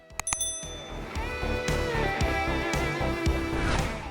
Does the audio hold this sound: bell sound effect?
yes